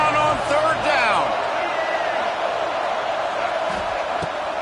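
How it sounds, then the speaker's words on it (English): A dense, roaring football stadium crowd at a Florida Gators game cheers loudly and continuously on third down, with a ball bounce and scattered whoops inside the noise. "This crowd unhinged, trying to make sure the Gators don't back down on third down."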